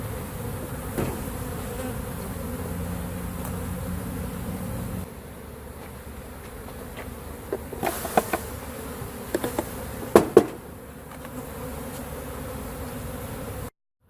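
A dense, steady hum of many honeybees buzzing close by after being shaken into a box, with occasional sharp knocks and clatters breaking through.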